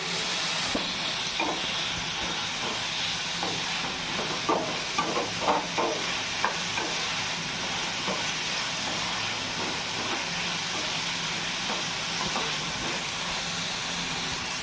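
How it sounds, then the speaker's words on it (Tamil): Onions frying in a pan for a Tamil garlic rice dish give a steady close sizzling hiss, with faint stirring scrapes and clicks near the start and no talking. "இப்போ ஆனியன் போட்டுட்டு நல்லா வதக்கட்டும்"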